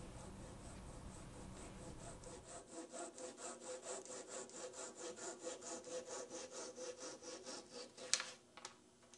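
Flexible flush-cutting hand saw, used for trimming plugs and dowels level with a surface, working through wood in steady rhythmic back-and-forth strokes, close and quiet, with a couple of knocks near the end.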